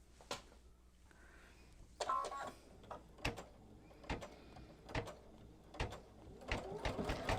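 A sewing machine stitches a quilt held in an embroidery hoop, heard as faint mechanical ticking and irregular clacking thumps spread over several seconds, close but quiet with no talk.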